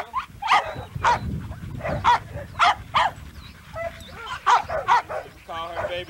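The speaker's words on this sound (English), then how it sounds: "This is a dog." A kennel yard dog barks repeatedly in loud, close, evenly spaced bursts, with a low rumble and some voice beneath.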